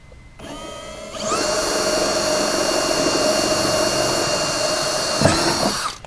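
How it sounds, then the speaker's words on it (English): Power drill match-drilling through a plastic footwell skid panel on a RZR side-by-side, spinning up with a steady high whine for several seconds before winding down, close and loud with no talking. "just match drill it through the plastic."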